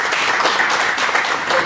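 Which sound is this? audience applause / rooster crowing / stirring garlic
audience applause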